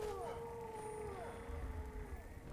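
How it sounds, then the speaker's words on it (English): A wavering, siren-like howl drifts through the Skyrim wilderness, rising and falling at moderate volume over a low rumbling background. "be kind of confused by the howling noise"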